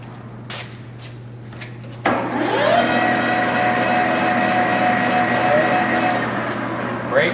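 Jet 1550 metal lathe from the 1980s, Taiwan-made, spinning up after a knock and running at 680 RPM, a steady mechanical whine with hum held close and loud.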